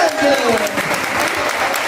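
Church congregation applauding during a family celebration service, a brief dense burst of clapping with a voice speaking over it.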